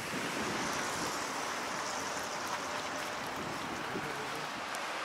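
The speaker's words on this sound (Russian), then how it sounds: "Ветер, ветер." Steady wind rushing across the microphone, a continuous broadband hiss and low rumble at moderate level, with no voices.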